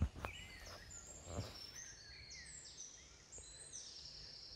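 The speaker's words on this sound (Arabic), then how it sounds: "الطائر هذا كيتسمى بطائر الشحرور، وحنا هنا في هذه المنطقه هذه كنسميوه بالجحموم" A common blackbird calling outdoors, several faint high chirps and whistled notes spread across the span over a quiet background, distant and soft.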